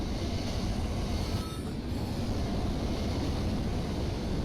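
A loud train rumbles past in the Wonders Between Dunes video game, a steady, dense roar of rail noise with wheel squeal that persists throughout without a break.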